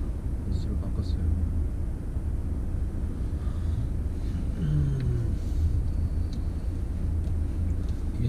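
A 2010 Audi A4 2.0 TFSI B8 Quattro driving in S mode, with a steady low engine and road rumble from inside the cabin, and a brief rising tone midway under a man's speech.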